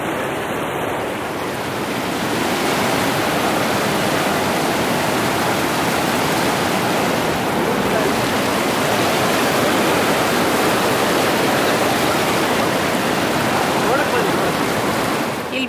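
Water rushes loudly and continuously near a Bhimeshwara temple, a dense broadband roar that stays steady throughout.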